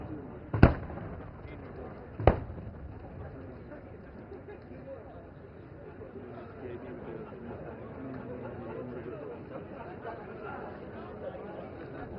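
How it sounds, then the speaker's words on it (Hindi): Arjun main battle tank guns and BMP-2 anti-tank guided missiles fire during a military exercise at Pokhran, Rajasthan: two sharp, distant reports early on, followed by a long stretch of steady background noise with talking throughout. "मेन बैटल टैंक अर्जुन अपने मेन गन से और BMP-2 सारथ अपने anti tank guided missile conquers के संगठित फायर से टारगेट ग्रुप 3 में दुश्मन के टैंकों को तबाह कर रहे हैं"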